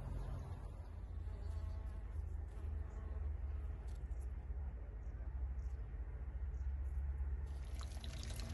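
Bees buzzing among fruit trees in a Dutch garden, a steady low drone that runs without pause under faint outdoor background noise.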